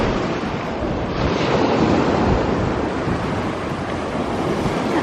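Ocean surf washes steadily onto a beach, a continuous broad roar with wind buffeting the microphone and no voices.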